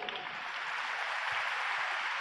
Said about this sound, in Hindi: ताली बजाओ आप इनके लिए